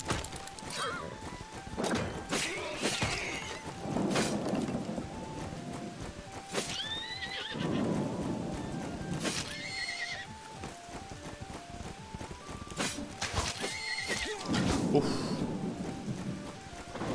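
Horses neigh and whinny repeatedly during a medieval battle in an absurd battle-simulator video game, several loud calls over a constant rumbling game soundscape with hoof-like clatter, and a faint voice now and then.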